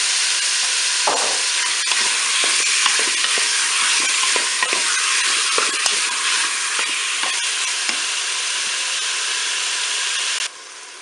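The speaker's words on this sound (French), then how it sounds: "Mon beurre est fondu, je vais pas attendre la fin du préchauffage pour faire revenir ma viande" Beef browning in melted butter in a Cookeo multicooker pot, a steady close sizzle with scattered scrapes and clicks of stirring throughout, no talk.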